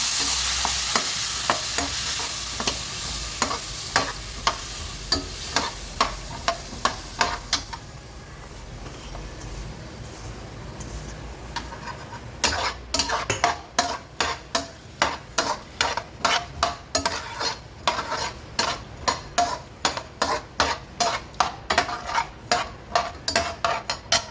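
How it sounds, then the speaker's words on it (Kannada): Potatoes for a dry cluster bean and potato palya fry in a pan under a continuous sizzle, while a utensil scrapes and stirs in rhythmic strokes that become quicker and more regular in the second half. "ಆಲೂಗಡ್ಡೆ ಹಾಕ್ತಾ ಇದ್ದೀನಿ"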